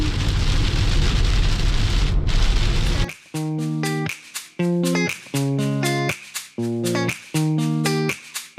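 Heavy rain pours onto the road during a drive to Batumi, a dense, loud hiss for about three seconds before giving way to a rhythmic run of clear electronic tones.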